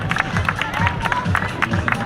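Applause and cheering for young and adult kart racers at a karting club event, scattered claps and crowd murmur with voices calling out nearby, uneven and lively rather than a solid roar.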